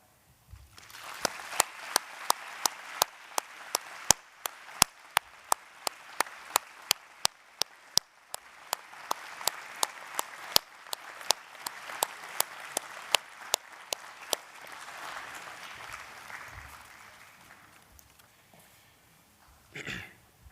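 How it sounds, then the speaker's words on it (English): A graduation audience applauds indoors, with sharp individual claps popping out over a softer spread of clapping for about fifteen seconds before it fades to quiet. "join me in a round of applause for these special people"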